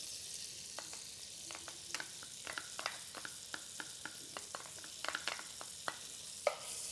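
Minced garlic sizzles in about three tablespoons of melted butter in a pan, a steady soft frying hiss broken by scattered crackles and pops, with a sharper pop near the end and no talking.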